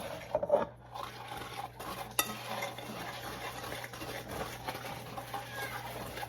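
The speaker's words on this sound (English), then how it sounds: "Now we got to mix it all in there. Get it all over all the pecans." Vegan candied pecans are stirred to coat them, giving quiet scraping and soft rattling of nuts against a bowl, close and low in level, with a steady faint hum underneath.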